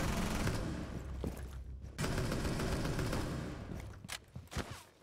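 Rapid, loud gunfire fills most of the span in a Rainbow Six Siege match, with dense bursts, a brief pause, then further scattered shots near the end, no talk heard.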